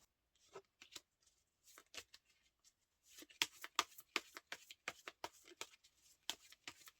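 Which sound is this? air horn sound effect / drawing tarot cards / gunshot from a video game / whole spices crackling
drawing tarot cards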